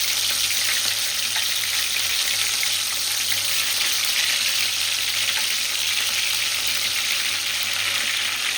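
Soya bean kabab frying in oil gives a continuous loud, close crackling sizzle, even and unbroken throughout, with a watery bubbling edge and no talk.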